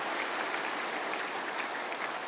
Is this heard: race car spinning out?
no